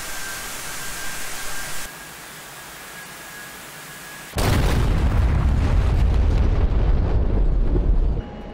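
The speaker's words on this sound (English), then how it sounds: "see if it'll destroy two bunkers at one time by placing it in the center" GBU-24 bunker-buster bomb striking bunkers in the Digital Combat Simulator game, dropped from an F-16 Viper: a steady cockpit hiss with a faint tone, then a sudden loud boom that rumbles on for several seconds before cutting off.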